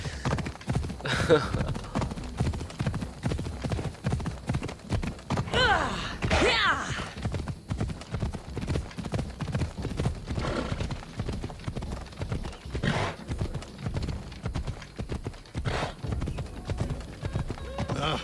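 Steady rhythmic hoofbeats of a galloping horse in Assassin's Creed Odyssey run throughout, with occasional whinnies and snorts rising over the continuous clip-clop.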